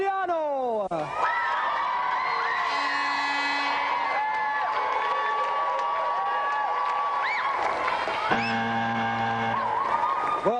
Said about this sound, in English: So let's have another round of applause for Nino, Martino and Angelo Gariano.